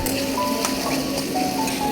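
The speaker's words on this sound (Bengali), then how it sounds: "এর মধ্যে পরিমাপ মতো আদা রসুন মিক্সড করা আছে, এটা দিয়ে দিব। এটা দিয়ে একটু ভেজে নেব" Beef tripe fries with ginger garlic paste in a pan, making a dense, steady, close sizzle that lasts the whole moment with a few faint clicks and no voices.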